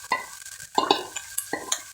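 Boneless chicken cubes and mushrooms fry in a pan while a spoon stirs them, making distinct scraping clinks in short bursts over a low, quiet sizzle, close to the listener.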